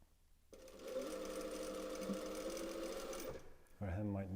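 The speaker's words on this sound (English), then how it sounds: "Because this fabric stretches, and this is a needle feed machine" A needle feed sewing machine hems stretch fabric with a steady mechanical hum and rapid stitching that runs for about three seconds, then stops and is followed by a voice.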